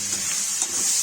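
Tomatoes frying with aubergine in a pan for a Kashmiri-style vegetable dish, giving a steady, bright sizzle with soft stirring scrapes, close and continuous.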